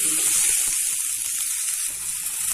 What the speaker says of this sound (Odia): ଟମାଟୋକୁ ମଧ୍ୟ ଭାଜିନେବା। ତାକୁ କିଛି ସମୟ ଭାଜି ନେବା।